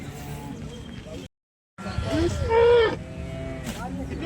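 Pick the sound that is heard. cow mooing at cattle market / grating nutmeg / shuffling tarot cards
cow mooing at cattle market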